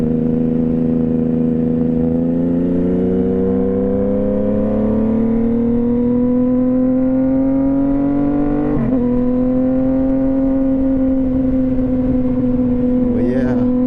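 A motorcycle, a fairly new Honda CBR, accelerates away from a traffic light, its engine note climbing steadily for several seconds, then shifting and pulling on, loud and close.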